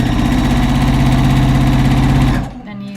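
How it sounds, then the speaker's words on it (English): A sewing machine runs steadily and loudly at close range, stitching a robe jacket seam closed, its motor humming evenly before cutting off abruptly near the end. "now I'm going to sew the rest of it closed"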